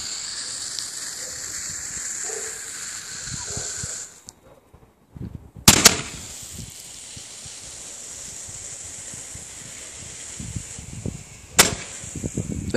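Old fireworks set off outdoors give a steady hiss, then a brief lull, and two sharp, loud cracks several seconds apart, each followed by a return to faint hissing.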